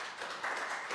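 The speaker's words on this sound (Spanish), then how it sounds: "Demos otro aplauso fuerte a nuestro Dios." Brief burst of applause from a church congregation, a dense wash of clapping that swells slightly.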